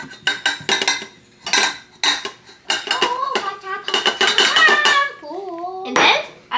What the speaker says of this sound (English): I give my sister Olivia this fork and give it a little mix.